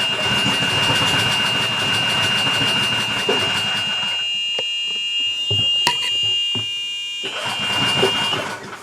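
Small single-cylinder Honda GX390 or Predator 420 engine on a golf cart conversion, running steadily and loudly up close with a constant whining drone and some knocks, struggling when given gas in reverse.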